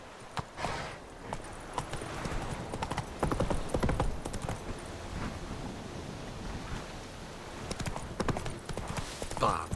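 The horse in The Witcher 3 video game gallops with steady, rapid clip-clop hoofbeats over wind and ambient game sound, with a voice heard at times.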